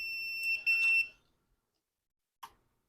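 A multimeter beeps steadily for about a second during a continuity test on a male DB15 connector at a workbench repairing a 5200 controller, followed by a short faint click.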